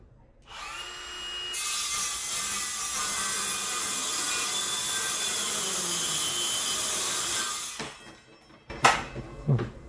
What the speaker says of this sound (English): our SE6ML in combination with our X-cup thin blade